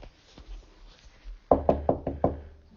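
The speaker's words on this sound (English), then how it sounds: "She knocked at the door, and Joe opened it." Knocking on a cottage door: five firm, evenly spaced knocks, close and loud, following a quieter stretch with a couple of faint taps.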